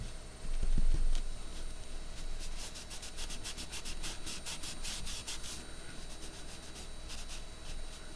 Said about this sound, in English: there's loads of glue on there, but fortunately because it's collal, I can rub most of it off, I think.